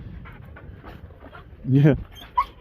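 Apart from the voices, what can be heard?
dog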